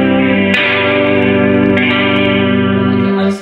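Electric guitar played through a subtle chorus modulation pedal, sustained shimmering chords with a gentle wavering swirl, loud and close, alone without talk.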